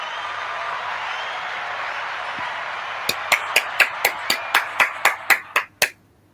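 A crowd's applause rises, then about a dozen sharp, loud hand claps ring out in an even rhythm over the fading clapping before stopping abruptly.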